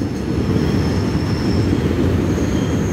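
An eight-car EMU600 electric local train departs a station, its steady low rumble of wheels and rail noise loud and continuous throughout, with faint squeal tones above.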